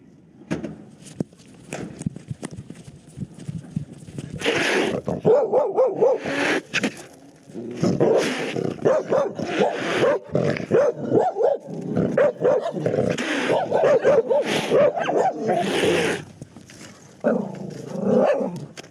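Several dogs bark, yip and whimper in bursts over about nineteen seconds, fairly close, with brief pauses between the flurries and faint footsteps.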